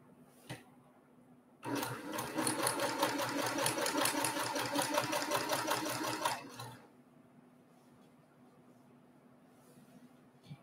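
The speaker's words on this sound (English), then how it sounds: "I'm going to head over to the machine, and I'm going to sew a 1/4 inch seam on either side." A sewing machine runs a quarter-inch seam on a quilt block in one steady, fast five-second burst, close and even, with quiet room tone before and after.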